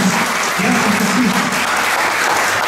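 A congregation at a Catholic healing and deliverance retreat bursts into loud, dense applause, a continuous close roar of clapping filling the short span without pause.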